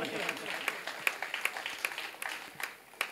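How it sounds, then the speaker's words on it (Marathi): Scattered clapping from a small religious assembly audience, a few sharp individual claps over a crowded room murmur, fairly faint and uneven rather than a full burst of applause. "सर्वप्रथम आपण त्याच्यासाठी कौतुकास्पद 2 टाळ्या वाजवायला काही हरकत नाही"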